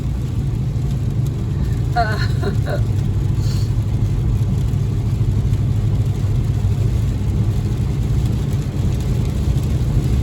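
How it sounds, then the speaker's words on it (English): A car climbs a big hill on a tree-lined road, its engine a loud, steady low rumble with constant road and wind noise throughout, while a voice speaks briefly over it. "I'm driving at a good speed and I'm taking precautions"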